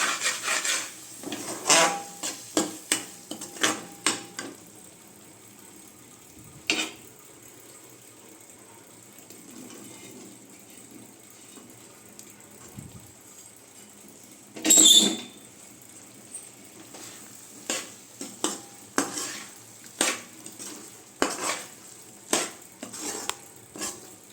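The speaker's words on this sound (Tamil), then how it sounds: "இந்த ஸ்டேஜில் நம்ம ஏற்கனவே ரெடி பண்ணி வச்சுருக்க மீல் மேக்கரை சேர்த்துக்கலாம் நல்லா மிக்ஸ் பண்ணி வச்சுருங்க" Soya chunks stirred into a thick masala gravy in a pan: close spoon scrapes and clinks against the metal, coming in quick irregular bursts with a quieter stretch in the middle, and no talking.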